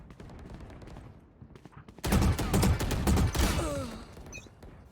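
Rapid video-game gunfire erupts about halfway through, a dense loud burst of shots that sits over game background noise with a faint voice earlier.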